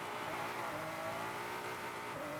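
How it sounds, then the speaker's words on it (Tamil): A Ford GT in Forza Horizon 5 played on a racing wheel, its engine holding a steady droning exhaust note throughout, faint and continuous with no talking. "இந்த காரோட எக்ஸாஸ்ட் நோட்டை கேட்டு பார்ப்போம்"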